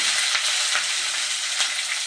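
Vegetables and green chillies sizzle and crackle steadily in a hot pan, a close, even frying hiss throughout with no talking.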